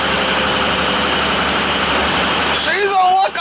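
A warm truck engine idles in a garage with a steady, close, low rumble, then near the end a voice cuts in over the running motor.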